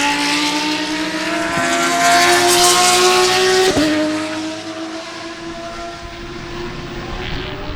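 Spec Corvette and GT race cars roar past at Sebring, loud engine howls rising and falling in pitch as the cars pass close by, then fading into a sustained, more distant drone.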